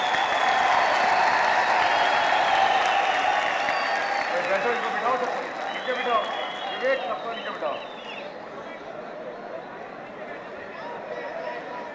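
A crowd of youth wing supporters at a political rally in an indoor stadium claps strongly, then the clapping thins and fades as someone speaks over the noise through a public address system.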